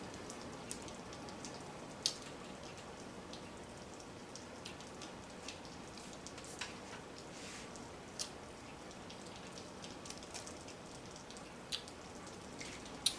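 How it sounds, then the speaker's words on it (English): Steady, soft rain heard indoors through a fireplace during a hurricane watch, a continuous faint wash of patter with scattered sharper drips and ticks, no voices. "What y'all hear is the rain"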